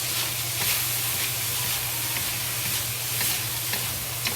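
Thinly sliced pork seasoned with black pepper stir-fries in a hot pan, giving a steady, close sizzle with light stirring scrapes throughout and no talking.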